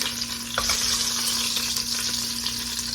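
Oxtails sear in a pot with a steady, close sizzle, broken by a few scraping stirs and light clinks, and no voices.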